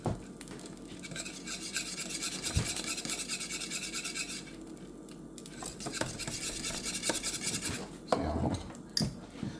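A whisk rasps and scrapes steadily against a pot of thickening eggnog mixture, a rhythmic, close scratching that slows briefly midway and ends with a few clinks, without any talking.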